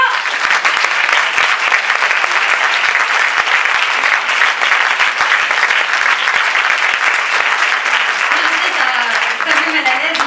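Audience at an evening event of France's Haut Conseil à l'Égalité gives loud, sustained applause filling the room throughout, with a voice faintly audible toward the end.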